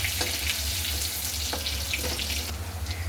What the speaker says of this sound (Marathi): 5-6 लसणाच्या पाकळ्या ठेचून त्याला परतून घेऊ.